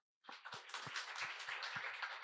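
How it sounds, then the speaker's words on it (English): Audience applause welcoming a guest at a toppers' talk event in Ahmedabad: a crowd bursts into steady, fairly faint clapping that holds an even level, with a few louder individual claps standing out. "Let's welcome her with a huge round of applause."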